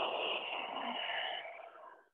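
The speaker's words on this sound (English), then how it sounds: "Breathing out." One long, deep exhale from a yoga flow, a breathy rush of air that starts strong and slowly fades to silence over about two seconds, close and alone.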